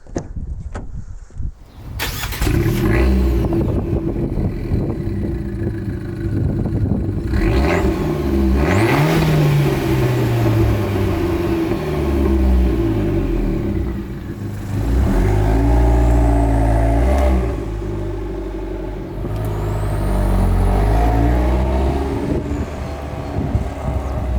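A 2019 Abarth 595 Essesse small turbo four-cylinder revs hard from the cabin, its induction noise swelling and falling through several loud pulls, with a brief rise and gear changes along the way and no talk over it.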